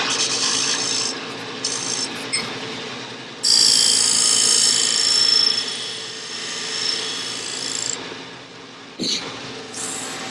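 A turning tool cuts a wooden lidded box spinning on a wood lathe, giving a steady close rasping hiss that swells into louder, brighter cutting bursts, with a brief sharp scrape near the end and no talking.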